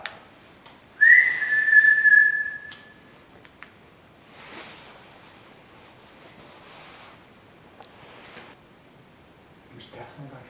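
A person whistles a single sustained, fairly loud note lasting about two seconds inside a quiet aviation museum hall, followed by faint rustling and low background noise.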